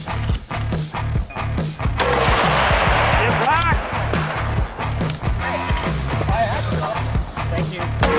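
Centerfire rifle shots ring out at a precision rifle match at Petawawa, fired from barricade positions on a pipe. There are several loud, sharp reports in quick succession, close by, with outdoor echo and voices talking between them.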